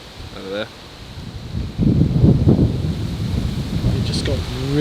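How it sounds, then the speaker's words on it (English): Strong wind blowing outdoors at night in a bush reserve, a broad roaring rush that swells and stays loud for several seconds. A brief voice is heard before the gusts build. "It just got really, really windy as well."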